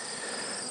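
Bees buzz steadily around hives in an apiary on a warm day, a dense, continuous insect drone that stays close and even throughout.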